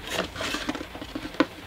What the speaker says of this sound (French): c'est la pluie qui tombe sur le Velux